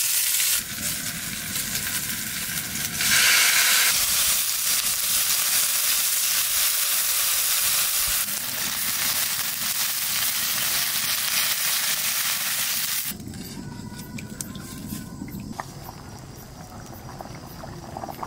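Potatoes with green chilli frying loudly in a pan, a dense close sizzle that surges as water is poured in, then settles into a quieter, steadier bubbling.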